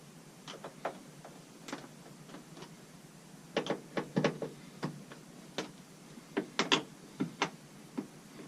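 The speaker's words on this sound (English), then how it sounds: "I've got to take this cover off, slide the filter out, put the new filter in" Plastic clicks and taps as a cover is removed from a heat pump and an air filter is slid out, irregular close handling knocks, some in quick clusters, over a quiet room.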